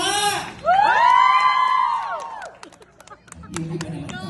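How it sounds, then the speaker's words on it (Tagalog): Loud cheering and whooping from a women's crowd at a Filipino stage show opening, with a long sustained shout over scattered clapping, fading into background chatter and voices. "magpalakpakan po na may kasamang malakas na sigawan"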